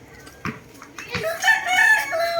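A golden boy straight-comb gamecock rooster gives a couple of sharp clucks, then launches into a loud, close crow that carries to the end.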